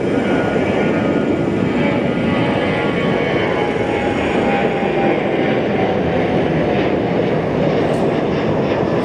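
An airplane at Phoenix Sky Harbor airport gives a loud, steady roar that fills the whole stretch without easing, close enough to dominate, with no voices over it.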